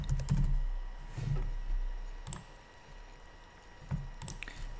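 Typing on a computer keyboard while filling in an online account form, with soft clustered keystrokes and a few louder clicks in an uneven rhythm, close up over a low background hum.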